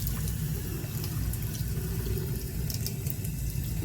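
Warm water runs steadily from a tap into a sink, a continuous close splashing rush with no voices over it.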